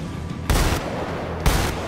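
Gunfire at a clay pigeon target in the Battlefield 4 video game: two loud, sharp booming shots about a second apart with lingering rumble, heard alone without talk.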